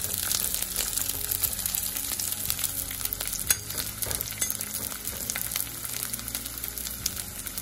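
Cauliflower and carrot pieces frying in hot oil until golden brown, a steady dense sizzle with crackling and occasional stirring scrapes, close and continuous throughout.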